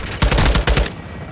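Gunfire in Modern Warfare II (2022): a loud, close burst of about seven rapid shots that cuts off and leaves a fading tail.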